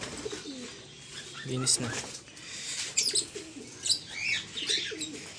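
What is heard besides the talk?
pigeons cooing in their loft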